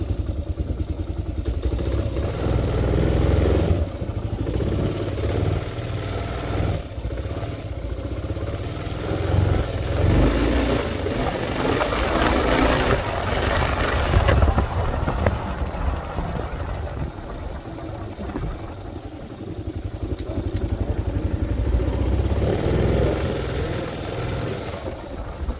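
A Kawasaki KLR 650 motorcycle with a flat tire rides around the block, its engine droning loud and close the whole time with rising and falling revs and some rattling.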